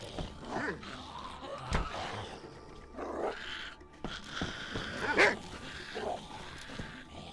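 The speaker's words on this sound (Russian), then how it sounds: "мне бы на самом деле главное от собаки избавиться" Dog growling and barking in the video game DayZ, close and fairly loud in short bursts across the clip, with busy game sounds and brief talk mixed in.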